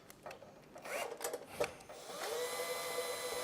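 A cordless drill drives screws while a barbecue grill is assembled, with short bursts of handling and rubbing followed by a steady, fairly close whirring run of the drill motor toward the end.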